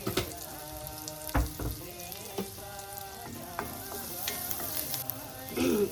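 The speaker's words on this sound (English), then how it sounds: "Saute the garlic" Garlic sauteing in a Le Creuset pot for a yak fermented cheese and chili leaf soup, a soft steady sizzle broken by knocks and scrapes of a utensil being stirred, with no talking.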